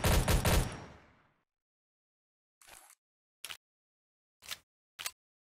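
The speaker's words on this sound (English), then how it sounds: "So does the gunshot aggro all the guys on the map to me?" Gunfire in a Hitman-style stealth video game: a loud burst of shots trails off, then after a gap come four short, sharp bangs spaced apart, close and clear with no talking.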